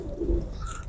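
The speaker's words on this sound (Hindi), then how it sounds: "मैदान के हीरो कबूतर हैं ये" A pigeon gives a short, soft coo close by, a single brief low call, with nobody speaking.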